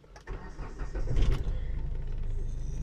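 A 2014 Hyundai Accent CRDi diesel engine cranks briefly and catches, then settles into a steady, close, rumbling idle with no talk over it.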